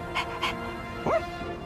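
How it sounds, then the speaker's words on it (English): Koromaru, a dog in the video game Persona 3, pants with a couple of short breathy puffs, followed by a brief whimpering yelp, all at close range over steady background game music. "Aw, is that a cute dog?"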